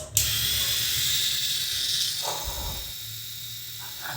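A rechargeable electric men's shaver runs continuously with a steady, close, high-pitched buzzing whir that holds at an even level for several seconds, with no talking over it.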